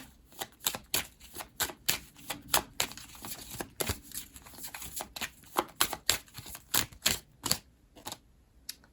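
Astrology cards shuffled by hand during a card reading, a brisk series of sharp papery flicks and riffles in uneven rhythm, close and fairly quiet, with no one speaking.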